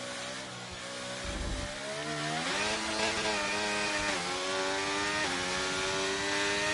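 A Formula 1 race car engine howls through a lap of the Japan round in a racing video game, its pitch rising steadily through the gears with sharp shifts, loud and continuous throughout.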